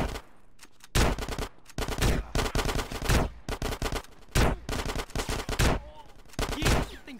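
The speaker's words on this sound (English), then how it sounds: "Get some suppressing fire in there!" Loud, rapid gunfire in GTA San Andreas, with dense bursts of automatic shots repeating through a firefight and only short gaps between them.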